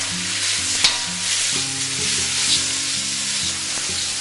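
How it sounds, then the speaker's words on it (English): Green onions and bean sprouts stir fried in a hot pan with beef and rice noodles, giving a steady, close sizzle with scraping stirs and a few sharp utensil clinks throughout. "your green onions and your bean sprouts go in, and then you're going to stir fry that around a little bit"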